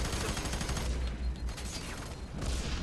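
Dense bursts of gunfire from the video game F.E.A.R. 3 crackle and boom through a short, loud stretch of game combat, with no one speaking.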